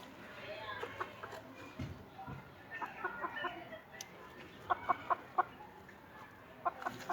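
Sultan hens cluck in short bursts, with a run of sharp repeated clucks near the end, over a light outdoor background.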